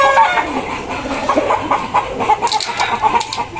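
A Larry Romero Sweater stag rooster clucks in a steady run of short, fairly loud notes close by, with faint rustling in the background.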